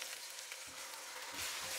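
Tomatoes go into a hot pan for a chicken kabsa, with a steady loud sizzle and a brief stir, close and continuous for about two seconds.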